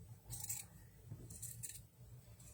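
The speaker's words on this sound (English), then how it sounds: "And you just cut along your lines with your scissors." Scissors snipping through a T-shirt along drawn lines in a few short bursts of crisp cutting, close up, with quiet pauses between strokes and no talking.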